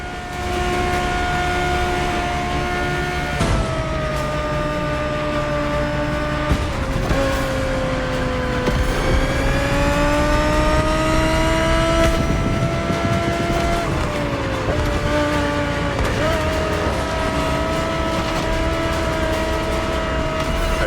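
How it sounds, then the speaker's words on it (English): A 2020 Audi R8 LMS GT2 race car in The Crew Motor Fest howls steadily and loudly throughout, its engine note rising and dipping through gear changes and revs with no talk over it. "The 2020 Audi R8 LMS GT2."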